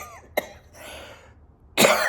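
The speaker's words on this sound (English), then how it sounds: "I went to laugh and I coughed instead" A woman coughs once sharply, then after a short breathy pause lets out a louder burst of coughing at close range.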